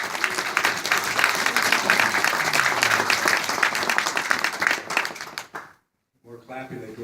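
A town hall audience with a congressman in Hillsdale, Michigan breaks into loud, sustained clapping and crowd noise that fills most of the span, then cuts off abruptly before a voice begins speaking.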